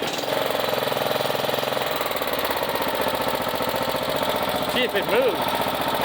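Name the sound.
Yard Machine lawnmower engine idling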